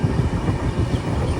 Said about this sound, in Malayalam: ട്രെയിൻ ഇപ്പോൾ ചിക്ബണക്കൽ സ്റ്റേഷനിലെത്തിയേ.